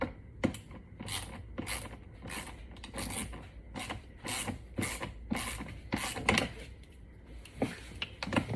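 Repeated ratcheting clicks come from a tool tightening a plastic panel fastener onto metal inside a Lexus SC430. The bursts are close and rhythmic, about a dozen short grinding ticks at an even pace, with no talking.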